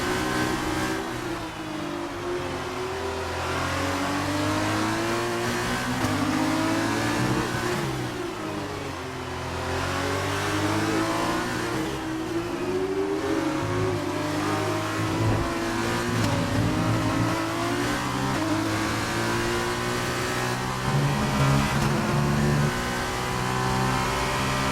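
Formula 1 race car engines in the F1 2019 racing game, a loud continuous high-pitched whine rising and falling through gear changes across the whole lap, with several cars audible at once and no talk.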